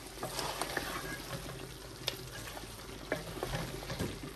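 Mutton biryani masala with garam masala cooks in a pan, a steady low sizzle and fry with occasional stirring scrapes and a few sharper clinks, fairly quiet and close with no voice over it.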